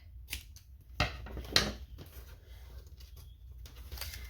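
Scissors cut paper for a burger-themed junk journal with a few short, crisp snips at a quiet level over a soft background.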